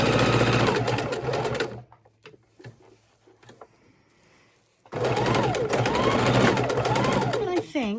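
Sewing machine stitching through several layers of a potholder, a loud steady mechanical whir that runs, pauses for about three seconds of quieter handling and talk, then resumes at full speed.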